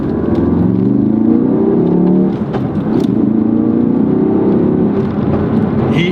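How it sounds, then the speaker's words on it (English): A stock Ford Focus RS revs loudly up close, its engine drone climbing steadily, dipping briefly midway, then pulling strongly again in a sustained, throaty roar with no voices over it. "The Focus RS is stock already really loud,"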